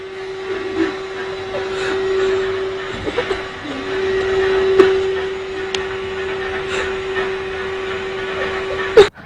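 Vacuum cleaner running indoors, a steady droning motor hum with a constant pitched whine, interrupted by small bumps and knocks and ending with a sharp clunk.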